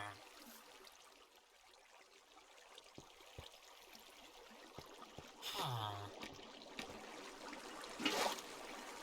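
Water pouring from a bucket in Minecraft, a brief gushing splash near six seconds and another near eight, set against a quiet ambient bed.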